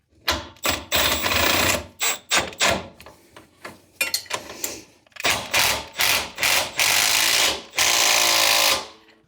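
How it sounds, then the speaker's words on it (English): Nut being tightened onto a shock bolt of a Jeep JK during shock replacement, heard as a run of loud, rapid mechanical bursts separated by short pauses, close up with no talking. "And tighten the nut on the back side."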